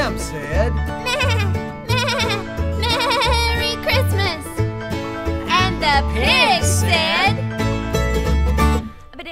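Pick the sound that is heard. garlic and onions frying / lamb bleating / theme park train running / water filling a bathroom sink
lamb bleating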